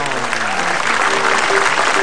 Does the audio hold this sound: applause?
yes